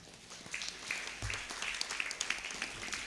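A fairly quiet round of applause breaks out for the teachers at a children's drama camp event, rapid overlapping claps from an audience a little distance away.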